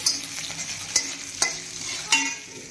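Chopped onion and peanuts are stirred and fried in hot oil for besan pitla. A close, steady sizzle carries several sharp scraping stir strokes over a few seconds.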